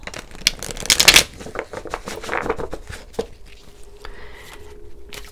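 Tarot cards are shuffled close up in a quick riffling burst, followed by softer scattered card taps and slides, with no talking.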